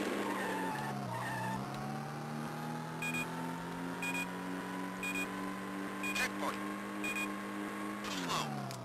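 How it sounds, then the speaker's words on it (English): Game-engine car noise from a GBA racing game: a steady engine drone with a long tire skid swelling through a handbrake turn, periodic short electronic beeps, and a voice talking over parts of it. "And I thought that was a handbrake turn."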